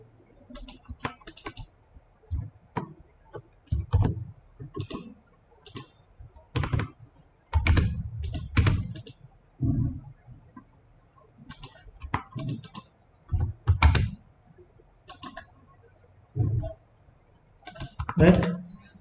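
Bursts of quick clicking keystrokes on a computer keyboard, typed in irregular clusters with pauses between them, close and fairly crisp, with someone talking intermittently alongside.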